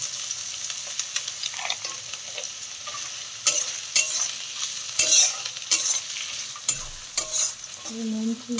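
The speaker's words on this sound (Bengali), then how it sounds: "এবার এর সাথে মাঝে আমরা অ্যাড করে নেবো কাজুগুলোকে।" Cashews frying in a pan and being stirred, a continuous close sizzle broken by frequent scraping and clacking strokes of a spoon, steady and fairly loud throughout.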